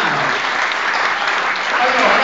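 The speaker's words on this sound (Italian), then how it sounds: "Un applauso" Audience applause at a civic reception honoring a skating champion, a steady, dense clatter of clapping that fills the whole short stretch with a loud, even wash, with voices faintly mixed in.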